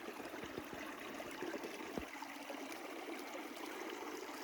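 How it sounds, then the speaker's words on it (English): A mountain creek flows steadily nearby, a broad, continuous rush of running water with a few soft low thumps, heard alone without voices. "I walked across the creek to get set up, but come back here and there's the water."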